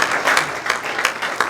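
An audience at a Chabad tenth-anniversary gala claps in a brief, dense burst of applause, close and steady throughout.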